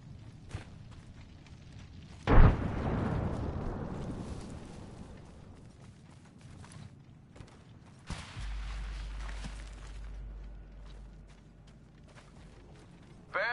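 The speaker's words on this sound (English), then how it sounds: "Throw my grenade out." A frag grenade explodes in the battle royale game Apex Legends with a single loud, close boom and a long rumbling decay, followed by mechanical clanks and movement sounds in the background.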